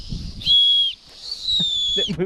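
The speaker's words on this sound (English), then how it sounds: "Blow the whistle." A shrill whistle is blown twice in short steady blasts, loud and close, with brief murmuring voices around it, on Mount Fuji.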